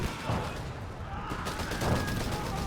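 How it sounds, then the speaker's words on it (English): Gunfire from a .30 cal machine gun in Company of Heroes 3, a dense, steady crackle of automatic shots running throughout amid battlefield noise. "they're manning a good flank in the 30 cal"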